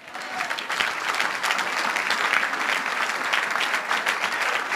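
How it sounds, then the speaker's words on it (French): Applause from an audience at a religious gathering, steady clapping filling the whole stretch at moderate loudness without pauses. "On acclame Jésus de Nazareth"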